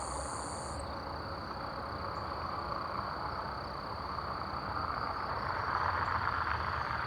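Crickets chirping in an open grassy field, a steady high continuous trill that holds evenly through soft outdoor background noise, with no one talking.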